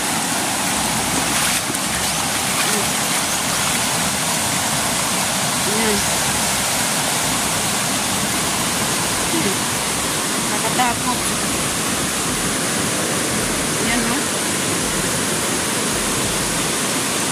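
Strong floodwater rushes steadily through the Piñan River, a loud, continuous broadband roar that fills the whole clip, with occasional faint voices beneath the torrent.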